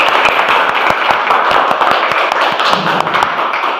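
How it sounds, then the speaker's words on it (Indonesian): Dense, loud applause fills a school classroom as students clap together at close range, a busy patter of many hands with a few sharper slaps and thumps standing out, continuing without pause. "Mari kita beri tepuk tangan dulu."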